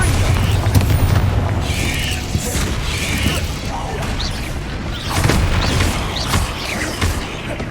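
Loud booming blasts from the Bombarda spell in the video game Hogwarts Legacy, heavy bursts with rumbling tails amid continuous game noise, and a voice calls out during the action.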